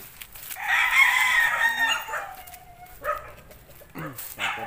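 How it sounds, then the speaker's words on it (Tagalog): Roosters in a backyard chicken coop crow loudly and up close, followed by scattered clucks and shorter calls, with a dog barking now and then. "Tutor muna tayo dito sa manukan ni Kuya Jack."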